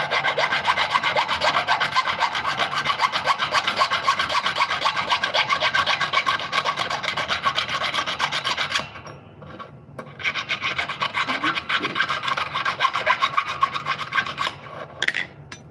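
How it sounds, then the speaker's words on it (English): Needle files rasp steadily across a metal blade in fast, close back-and-forth strokes, with a brief pause partway through before the filing resumes. "These needle files, I don't know. I've got 2 sets of them."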